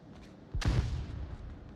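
Flashbang detonating in the VR shooter Onward during a competitive match, a single sharp burst with a booming low tail that fades into lingering rumble amid faint background game noise.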